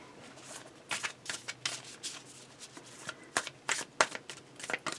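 Tarot cards are shuffled by hand in quick, uneven riffling bursts with soft slaps and rustles, close and fairly quiet, with no one talking.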